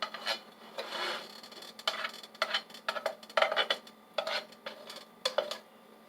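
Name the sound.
butter being spread around in a pan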